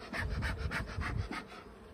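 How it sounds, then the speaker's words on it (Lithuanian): Honey bees buzzing at an opened hive, a dense, steady drone that swells and pulses in soft waves throughout, close and fairly quiet, with a faint rubbing or shuffling underneath and no voices. "Bičių, kaip matote, nemažai."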